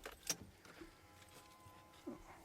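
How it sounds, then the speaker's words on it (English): Car keys jangle as they are drawn from the ignition of a 2002 Toyota Aristo V300 Turbo, a quiet interior rattle with a sharp clink near the start and a small click toward the end. "Let's take these keys out."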